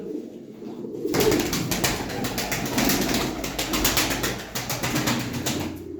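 Pigeons coo in soft, repeated low calls among a lively flock of racing birds, with a steady chatter of bird sounds and occasional wing flaps filling the background at close range.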